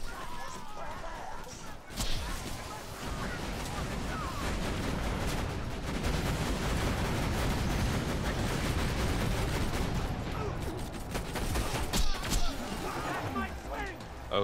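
Gunfire in Borderlands 2 crackles continuously in dense, layered bursts through a busy firefight, loud and sustained throughout, with a few sharper reports standing out near the end.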